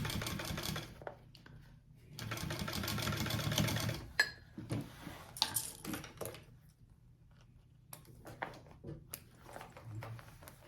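A sewing machine stitches over a fold in fabric for a crossbody bag, running in fast rattling bursts with short pauses between runs.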